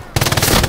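MG42 machine gun firing in a video game, a rapid, loud burst of tightly packed shots lasting under a second after a brief quiet start.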